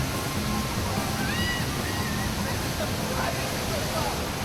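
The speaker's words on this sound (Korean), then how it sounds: "온몸으로 폭포를 맞을 수 있는 기회도 가질 수 있다" Waterfall in a narrow river gorge in Albania during the dry season: a steady, dense roar of falling water fills the whole clip, with voices of people chattering and calling faintly in the background.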